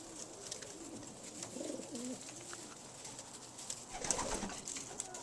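Young pigeons coo softly in a loft, low murmuring calls overlapping at a moderate distance, with light rustling and a brief livelier flutter of activity toward the end.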